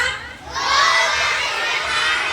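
A crowd of children shouts and cheers together at a deep-sea-themed science station, a loud, sustained group roar that swells after a brief dip and holds steady to the end.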